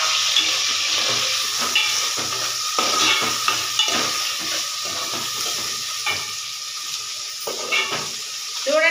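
Onions sizzle steadily in hot oil in a pan while a Telugu-style country chicken curry is cooked, with a continuous loud frying hiss and occasional stirring scrapes throughout.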